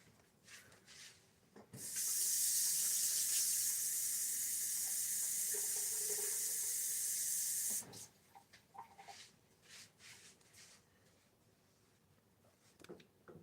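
Tap water runs in a steady, bright hiss for about six seconds and then shuts off, leaving quiet clatter in a home soap-making workspace.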